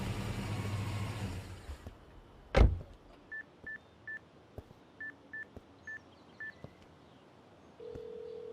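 Seven telephone keypad dialing tones sound inside a car, in two quick groups, over a low idling engine hum after a brief thump.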